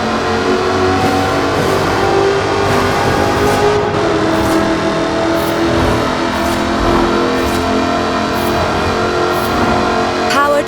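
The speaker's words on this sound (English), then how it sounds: "Powered by a 5-litre V8 supercharged engine, with a fully aluminium body, it's blisteringly fast" A supercharged 5-litre V8 engine with a fully aluminium body roars in Forza Horizon 4, a loud sustained drone with rising revs and periodic gear-change breaks, heard alone without talk.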